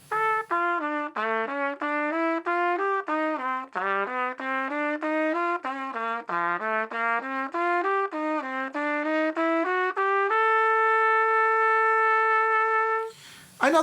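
A solo trumpet plays a slow technical exercise of paired eighth notes, the second of each pair tongued and slurred across each downbeat in jazz bebop style, ending on a long held note, with no talking.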